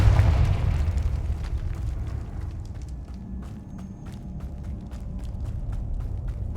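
A Confringo fire spell blasts in Hogwarts Legacy PC gameplay. It opens with a loud, low boom that fades into a rumbling tail, followed by a series of light, regular footstep-like taps.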